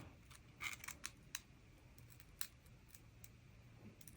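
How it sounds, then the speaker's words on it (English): Quiet, sharp scraping and clicking of hard plastic pistol grips, a Glock 20 Gen 5 MOS against a Glock 19X, rubbing together, a handful of brief gritty contacts spread over a few seconds. "You hear the grips rubbing together."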